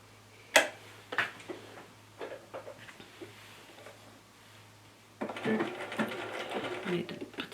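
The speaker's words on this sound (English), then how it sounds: "I'm going to actually stitch from the right side of the fabric because I want to see the needle stitches" A sewing machine stitches an Edwardian camisole from the fabric's right side. A few ticking clicks and taps come first, then a steady whirring burst of stitching runs close for the last couple of seconds.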